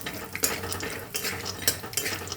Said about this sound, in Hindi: अब हम बादाम को भूनेंगे अच्छे से।